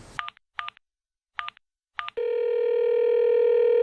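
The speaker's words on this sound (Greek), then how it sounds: "Μισό λεπτό να την πάρω τη Θόδη στο τηλέφωνο" A telephone being dialed: four short, separate keypad beeps spaced unevenly, followed by a steady, continuous tone that rises slightly and holds to the end, clean and close, with no voices.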